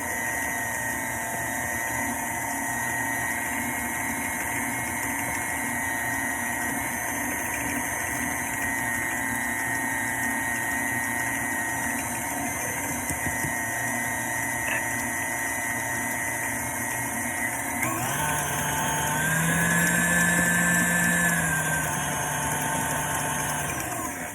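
An electric mixer beats meringue cookie batter in a bowl with a steady, even motor whine that lasts throughout and rises in pitch and loudness near the end when the speed goes up.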